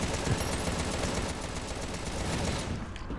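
Rapid, continuous gunfire from a moving turret in the action shooter Contra: Rogue Corps, a dense, unbroken rattle of shots over loud game noise that cuts off near the end.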